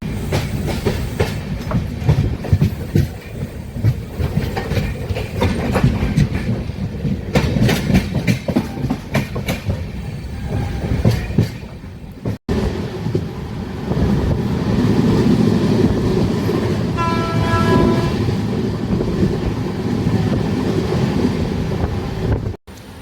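A passenger train travelling from Mumbai to Mangalore rumbles steadily with rhythmic clickety-clack from the rails and wind buffeting the microphone, loud and continuous, briefly cutting out near the middle before resuming.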